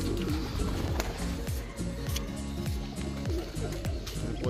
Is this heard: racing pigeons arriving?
yes